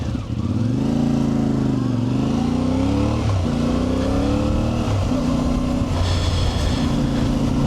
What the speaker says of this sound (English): So let's jump on the bike and let's get going.